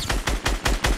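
SCAR rifle fire in a video game, five sharp, loud shots in quick even rhythm, close and punchy, with no talk over them.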